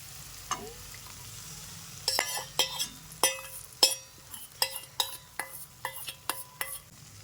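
Masala scrambled eggs with chillies and turmeric being stirred in a pan over a raised gas flame: about a dozen sharp scraping clinks of the spatula in an irregular rhythm over a steady low sizzle, close and clear, with no talk.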